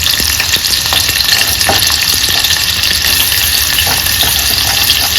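Chopped onion dropped into hot oil, giving a loud, dense, continuous sizzle with crackling pops and a few stirring knocks, close up and without any voices.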